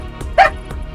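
A single dog bark or yip rings out at moderate loudness over low background noise, brief and isolated.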